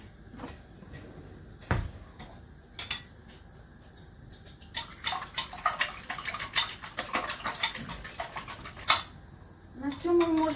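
A fork or whisk beats four eggs with milk and salt for an omelette in a home kitchen in Turkey, making a fast run of light clicking taps against the bowl after a few earlier scattered clinks.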